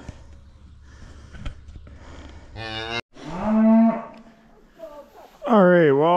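Cows and a calf in a barn give several loud, drawn-out moos with snorts and breathing between them. The calls grow louder and closer toward the end.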